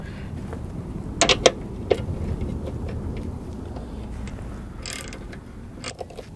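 A wrench works at a motor mount bolt on a Jeep Compass subframe, with a few sharp metallic clicks and ratcheting creaks over a low steady background.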